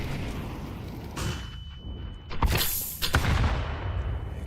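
Grenade explosion in Counter-Strike 2 during a competitive match, a sudden loud boom followed by a second blast, hissing bursts and rumbling debris over a background hum.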